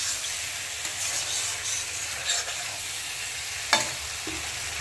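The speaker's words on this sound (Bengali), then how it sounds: "ঝিঙ্গে আর আলুটা মশলার সাথে ভালো করে কষে গেছে।" Ridge gourd and potato stir-fried with spices in a pan: a constant close sizzle with soft stirring scrapes and one sharp utensil clack near the end.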